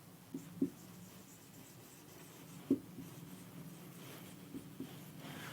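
A teacher writes on a classroom board, producing a few faint taps and short scratches spread over a quiet room hum.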